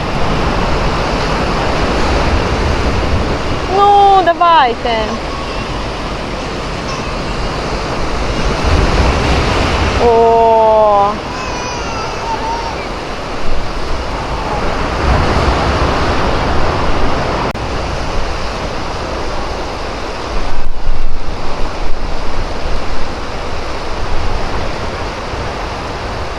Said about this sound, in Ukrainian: Подивіться просто наскільки сильні хвилі, що вони ось тут пробиваються з-під пірсу